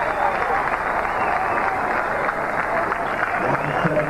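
A cricket crowd at a Pakistan versus West Indies match in Toronto applauds and cheers after a four, a steady roar from far off that runs the whole time, with commentary spoken over it.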